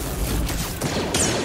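Sustained gunfire in the Star Wars Jedi Fallen Order game at the crashed Venator on Zeffo, dense and continuous, with a sharp burst near the end.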